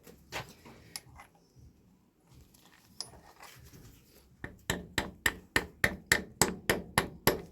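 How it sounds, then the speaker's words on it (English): Copper rawhide hammer tapping a bronze bush onto a dumper truck gearbox shaft, a few scattered knocks at first, then a rapid even run of about a dozen sharp, ringing taps close by. "I'll get a copper rawhide hammer and just knock him on"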